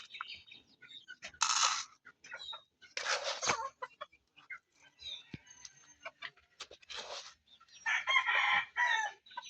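Roosters and chickens on a small farm crow and cluck in several separate loud bursts, with softer clucks and rustling in the quiet gaps between them.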